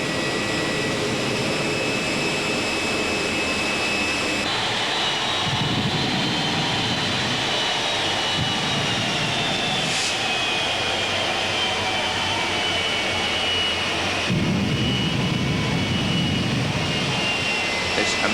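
A British-built Peterbilt drag racing truck at Hockenheim, its engine revs climbing toward launch, a loud sustained roar with a rising whine and a sudden step in intensity, while a commentator talks over it.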